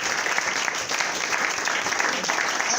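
A church congregation applauds, a steady, dense clapping that fills the room for a few seconds with no break.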